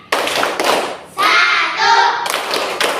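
Rhythmic clapping and hand thuds of the Pancasila symbols clap chant in an Indonesian classroom, several sharp bursts of claps, with a brief pause in the middle.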